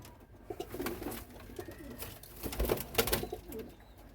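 Pigeons coo in soft, low, throaty bursts over a steady background rustle, repeating several times at close range.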